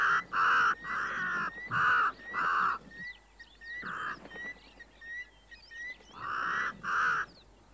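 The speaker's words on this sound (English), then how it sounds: "The Cory bustard is made unwelcome by a crow." A crow caws repeatedly at an African waterhole, harsh loud calls in uneven bursts, with smaller birds chirping faintly in the background during the pauses.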